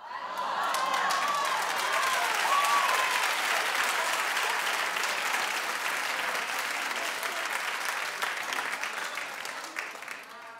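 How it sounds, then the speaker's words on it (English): A studio audience at a talk show breaks into sustained applause, a steady dense wash of clapping with some cheering that fades slightly toward the end, with a voice talking faintly underneath. "Why are you clapping?"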